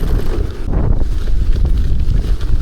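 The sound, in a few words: strong wind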